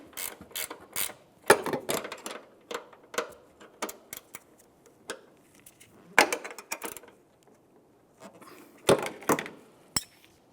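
A ratchet tightening a hood hinge bolt on a 2000–2006 Chevrolet Tahoe, close bursts of rapid clicking separated by pauses, with occasional metallic clinks.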